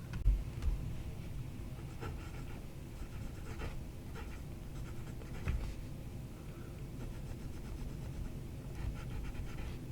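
A WingSung 630 fountain pen with a black translucent barrel and a smoothed nib glides across paper, making a soft, steady scratching under a low background hum, with a few faint strokes standing out.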